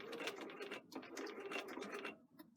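A sewing machine runs a stitch through fabric while sewing a sleeve placket, with a steady close mechanical whirr and brief pauses and slowdowns between bursts.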